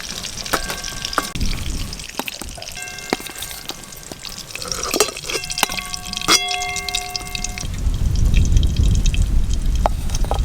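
Brinjal slices lightly frying in hot oil in a home kitchen give a steady close sizzle and crackle, broken by occasional clinks and scrapes of stirring.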